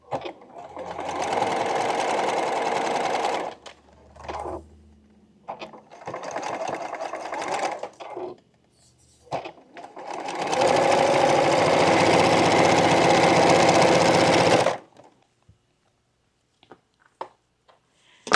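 A sewing machine stitches fabric for an African Queen quilt block in several bursts of rapid mechanical whirring, the last run longest, separated by pauses and a few faint clicks.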